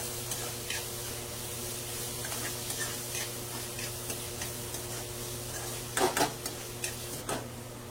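Tomato added to reddish fried onion in a pan for a mixed vegetable dish with broad beans, brinjal and drumsticks, giving a soft steady sizzle and stirring with scattered spoon taps and a cluster of louder clinks later.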